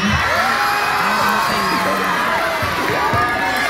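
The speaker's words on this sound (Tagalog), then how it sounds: "Ang hindi pumalakpak ng mas malakas na may kasamang malakas na hiyawan, mamamatay." A large crowd at a Miss Gay pageant cheers and whoops loudly, many voices shouting together in a sustained, excited roar.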